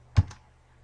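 Two quick key presses on a computer keyboard, a sharp close click followed by a softer one, faint and isolated against a quiet room.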